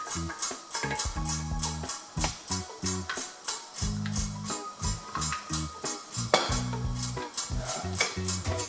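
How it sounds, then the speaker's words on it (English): A pot of plantain paste being stirred for fufu, with a steady rhythm of repeated thick scraping and slapping strokes, close and fairly loud, over a faint sizzle. "here is my plantain paste. Okay, and I'm going to start"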